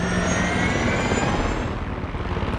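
A helicopter in the video game Far Cry 6 drones loud and close with a steady rotor and engine roar, continuous throughout with a slight pulsing flutter and no voices.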